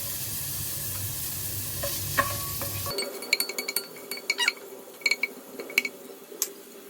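Garlic frying in butter in a pan, a soft sizzle at first, then a run of sharp clinks and scrapes of a utensil against the pan over a quieter hiss.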